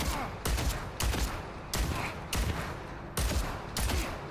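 A hero's slow-firing gun in the video game Deadlock fires six heavy bursts at an even, unhurried pace, each a sharp blast with a short tail and no talk over it.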